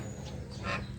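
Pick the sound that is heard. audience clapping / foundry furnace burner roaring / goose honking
goose honking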